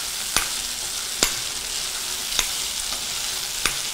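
Prawns and onion pieces fry in a pan with a loud, steady sizzling hiss, punctuated by four evenly spaced sharp clicks from a utensil stirring against the pan.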